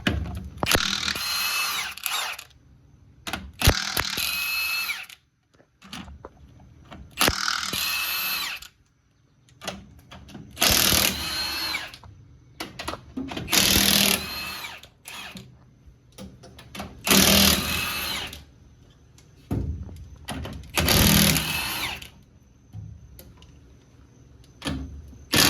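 A big impact wrench fitted with a chrome socket removes engine head bolts: repeated loud rattling bursts, each a few seconds long, separated by short pauses.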